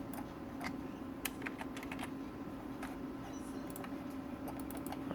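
Rapid, irregular clicks of fingers typing on a computer keyboard, with scattered keystrokes over a steady machine hum and no voices.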